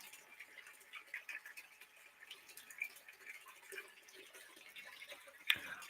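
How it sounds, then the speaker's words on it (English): Water running over a Miller table used for gold panning, a faint, thin trickle with soft drips and ticks, fairly close and steady, ending with one sharp tap. "I'm going to turn down the water because that gold is slipping right off right now"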